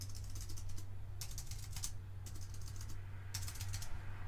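Typing on a Matias space gray aluminum wireless keyboard for Mac, quick bursts of crisp, clicky keystrokes in several short runs separated by pauses, fairly faint over a low background hum.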